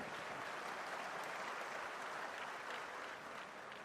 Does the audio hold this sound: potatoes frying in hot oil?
no